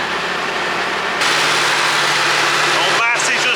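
A classic Massey Ferguson 3080 tractor idling close by, a loud steady diesel rumble that holds even throughout, with a brief disturbance near the end.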